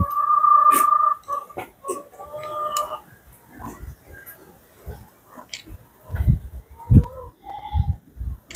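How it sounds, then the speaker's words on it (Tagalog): Goats on a rainy-season Philippine farm bleat several times, a long clear call at the start then shorter scattered bleats, close by, with some low thumps and someone talking between. "Diyan yung ibang kambing natin guys, oh."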